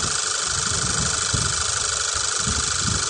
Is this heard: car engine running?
yes